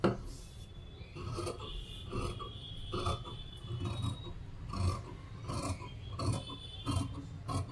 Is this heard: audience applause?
no